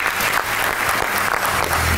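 Studio audience applause at a comedy show, a dense, loud and steady wash of many hands clapping together with no voices on top.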